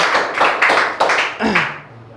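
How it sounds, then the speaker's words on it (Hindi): Students clap at the end of a session in a short burst of quick, bright claps that thin out after about a second and a half, and a voice briefly speaks as the applause fades. "ताली बजाओ"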